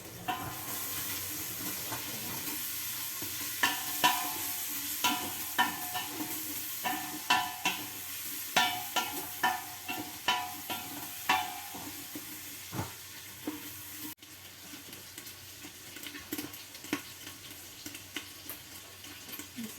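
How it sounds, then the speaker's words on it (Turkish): Meat browning in a pan with butter and extra-virgin olive oil for a Turkish meat-and-dried-bean stew: a soft, continuous sizzle under a long run of quick, rhythmic spatula scrapes, fairly quiet throughout. "Etim kavrulmaya başladı. Tereyağı ekliyorum."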